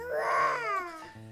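A young child imitates a tiger with a drawn-out, wailing vocal growl that rises and falls, loud and close, sounding more like a whiny cry than a roar, with no other talk.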